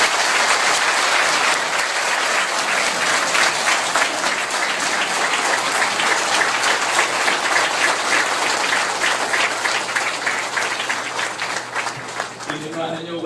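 Sustained applause from the crowd at a Guardians anniversary gathering, a thick, even roar of many hands clapping, loud at first and slowly thinning toward the end over roughly thirteen seconds.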